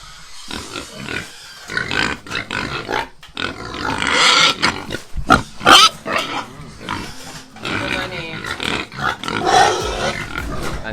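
Hungry farm pigs, including native pigs, grunting and squealing loudly before feeding, with bursts of shrill squeals and harsh roaring grunts overlapping in uneven waves, close to the listener.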